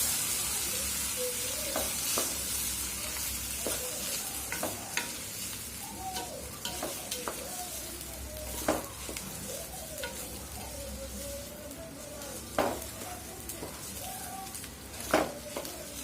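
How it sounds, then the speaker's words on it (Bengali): Rice being fried and stirred in a pot while making pulao: a steady sizzle throughout with repeated scraping strokes of a spoon against the pot, close and fairly loud, no talking. "চাউলটা ভালোভাবে ভাজা নিব"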